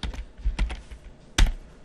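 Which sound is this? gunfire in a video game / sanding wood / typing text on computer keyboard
typing text on computer keyboard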